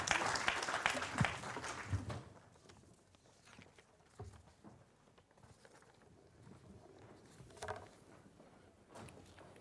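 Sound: audience applauding round-table guests at a conference

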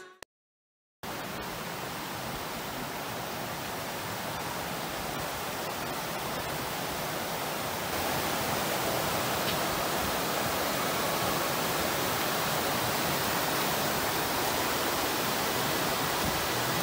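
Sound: waterfall, Ala de Ángel cascade in Chiapas

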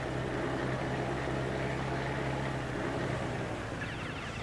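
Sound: truck engine in video game Farming Simulator 19

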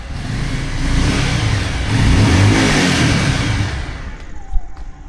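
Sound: car engine started and revved

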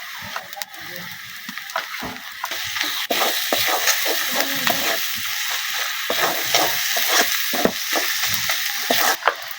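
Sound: garlic and ginger paste added to pan, frying

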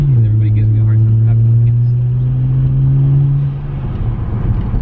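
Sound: modified BMW 335i engine accelerating

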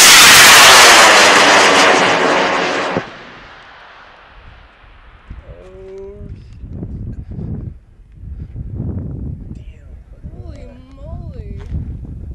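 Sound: airplane engine

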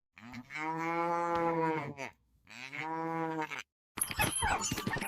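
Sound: cow mooing

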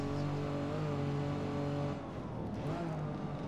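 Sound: Aston Martin DB4 GT racing at speed on the Nürburgring

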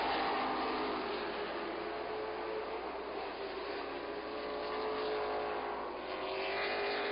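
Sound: race cars racing on speedway track

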